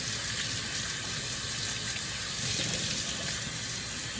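A baby bottle part is rinsed under a running kitchen tap, with a steady close rush of water that holds for a few seconds without talk.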